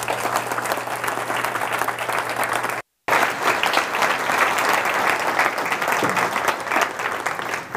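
An audience at a Blake breakfast event applauds steadily to welcome Dr. Stephen Hoge, with a dense roomful of clapping that keeps going across several seconds. A brief dropout of silence cuts in partway through.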